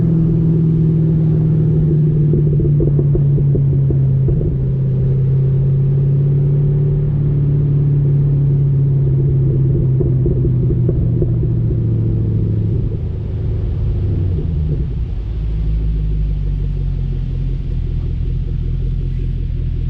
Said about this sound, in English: I can do a little more of, not racing, but a little more pull so you guys can hear the exhaust and everything